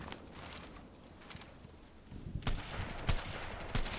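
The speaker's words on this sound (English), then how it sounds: "everybody's shooting and killing and doing stuff" Gunfire from the online shooter Contract Wars sounds as rapid, sharp shots, sparse at first and then denser, coming in quick bursts over a constant background of game noise, with no talk.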